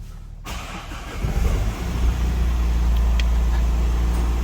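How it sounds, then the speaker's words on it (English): A Mazda CX-5 engine cranks and catches after a brief silence, then settles into a steady, loud, close idle with no talk over it. "So basically I can turn on the car"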